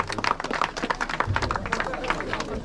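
An outdoor crowd claps for the podium finishers at an enduro motorcycle race, scattered hand claps and cheering mixed with chatter and voices throughout.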